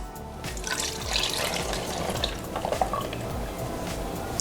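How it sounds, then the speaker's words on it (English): Homemade ginger ale streams through a small funnel into a bottle, a continuous close splashing pour with gurgling throughout, nearly free of talk. "Now we need to pour this back into our bottle."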